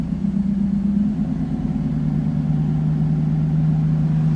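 A 1991 Mercedes 500SL engine holds a steady, elevated idle, an even low hum that runs unchanged and fairly close throughout the few seconds, with no talking.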